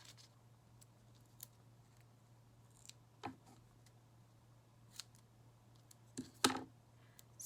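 Scissors snipping through dimensional adhesive foam pieces while paper crafting, a few sparse, sharp cuts and clicks spaced over several seconds in a quiet room, the last cut louder and closer.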